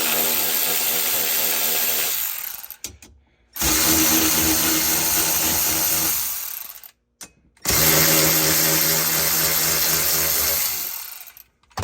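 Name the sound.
power tool removing 12 mm bolts from a Kawasaki Ridge XR seat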